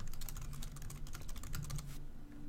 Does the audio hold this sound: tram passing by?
no